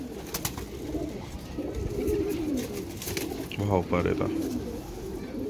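Pigeons coo in a loft among quail-type pet pigeons being handled for sale, with someone talking over the birds throughout and a brief louder burst of cooing near the end.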